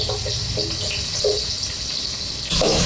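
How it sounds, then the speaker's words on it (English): Sliced onion hits hot oil and ghee in a pan, giving a steady hissing sizzle throughout, with a few soft clinks and a louder rush of frying near the end. "Now to this add 1 finely sliced onion,"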